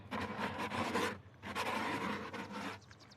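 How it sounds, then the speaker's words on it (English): A tool scrapes around a concrete mixing bowl in a few rough, rasping strokes with brief pauses between them, near and fairly faint. "You scrape the bowl, try and make use of everything you got there."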